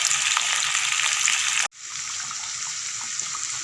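Katla fish curry with taro root sautéing in a pan, a steady loud sizzle that cuts out for an instant and then returns, with no one speaking.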